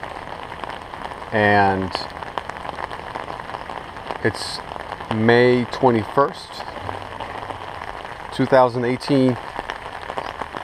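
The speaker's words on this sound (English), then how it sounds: "the rain has just been relentless" Steady rain pours down at a home apiary on South Florida's Treasure Coast, a constant soft hiss that runs beneath a voice speaking in short bursts.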